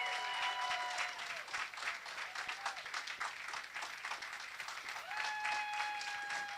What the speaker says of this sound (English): Come on, let's make some noise for him.